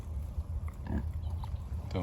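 Pigs grunt and oink on a storm-hit farm, with short snorts scattered over steady low wind rumble and a louder squeal-like burst near the end, fairly close.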